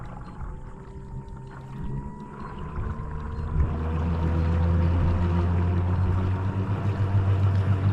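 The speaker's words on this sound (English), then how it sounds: "Right now, I don't know if you can hear it, we're in slow speed." A Bixpy J-2 electric outboard motor pushes an inflatable stand-up paddle board or kayak at slow speed, a steady low hum with a faint whine that rises and grows a little louder midway, heard close with water noise and no talk.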